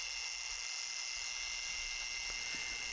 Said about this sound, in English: every time I'm using a polisher, the arm movement's under control, not a ton of pressure